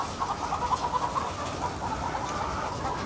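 Chickens cluck in a steady, busy chorus on a higher-welfare chicken farm, a dense mid-distance murmur of overlapping calls with a few brief louder clucks and no talking.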